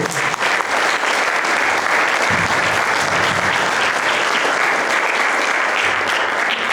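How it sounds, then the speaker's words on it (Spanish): An audience at a book presentation applauds loudly and continuously, a dense steady wash of clapping from a crowd that holds throughout without a break. "vamos a darle también un aplauso a la maestra"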